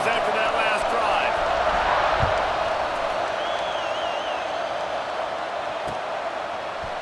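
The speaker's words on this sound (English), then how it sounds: "this crowd is feeling themselves after that last drive" Stadium crowd roars steadily at a Notre Dame at Clemson football game, a wide sustained wash of cheering with whistles and a few sharp knocks, no clear speech on top.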